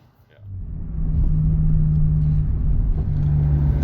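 A Maserati Quattroporte with a 430-horsepower, 4.7-liter Ferrari-built V8 starts up, with a short crank and catch followed by a deep, steady idle rumble that stays loud and close.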